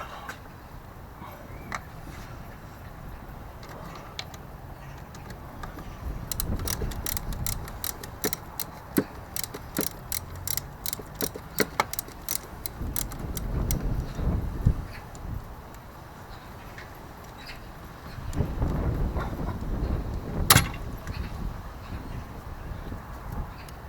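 A bolt is undone from the firewall bracket holding the fuel pipes on a classic Mini, giving a long run of rapid, close metallic ticks and clicks with some low handling noise between them.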